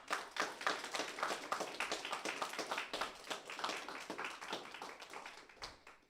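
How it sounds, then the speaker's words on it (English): An audience at a robot combat event, Wreckage at the Rex, claps in a steady, fairly faint round of applause that fades out near the end. "You guys should have a big round of applause for yourselves."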